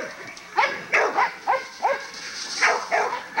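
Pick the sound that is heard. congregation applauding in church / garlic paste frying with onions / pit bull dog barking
pit bull dog barking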